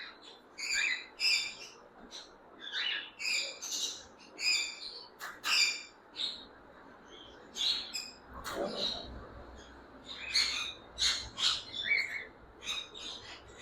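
Ringneck parrots in a pet shop, calling in sharp repeated squawks and chirps, clustered in bursts over faint background murmur.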